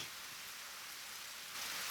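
Steady, faint rain hisses evenly throughout, a soft wash of drops with no voices, growing slightly louder near the end.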